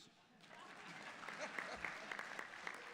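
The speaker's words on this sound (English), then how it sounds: "y'all don't have to clap for him again" Audience at a State Bar of Georgia board meeting applauding, a swelling burst of many hands clapping that builds from quiet to a full, steady ovation.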